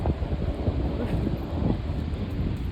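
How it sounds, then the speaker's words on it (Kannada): Strong wind buffets the microphone outdoors with a steady, loud rumbling roar and gusty swells throughout, with no clear voices on top. "ಮಸ್ತ್ ಗಾಳಿ ಬರತೈತಿ"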